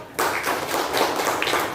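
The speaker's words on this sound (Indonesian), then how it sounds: "Tepuk tangan dulu." A classroom of students clap their hands together in a short, dense burst that starts abruptly and holds steady, close and fairly loud, with no talking over it.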